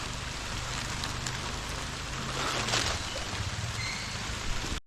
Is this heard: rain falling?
yes